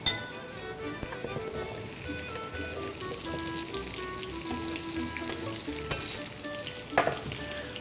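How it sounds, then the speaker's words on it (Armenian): Diced zucchini cubes and onions fry together in oil, giving a steady, dense crackling sizzle throughout, with a few sharper clinks of a utensil against the pan near the start and end. "դդմիկը սոխի հետ միասին տապակենք"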